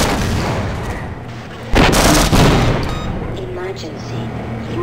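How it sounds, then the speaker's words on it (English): A grenade launcher fires in the video game Half-Life, a single loud close blast with a rumbling tail, set against game ambience and a talking voice. "this is a grenade launchery thing"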